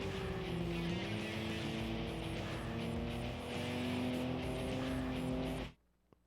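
Cars in the racing video game Tokyo Xtreme Racer 3 on PS2 drone past with a loud, sustained engine roar and shifting pitch, steady for several seconds before cutting off abruptly into near silence.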